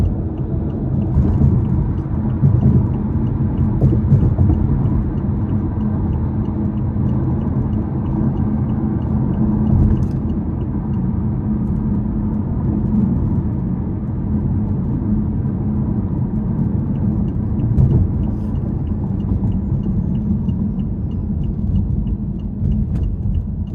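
A 2019 BMW i8 on the road in sport mode gives a steady, low rumbling drone, with a continuous engine hum and road noise holding even throughout.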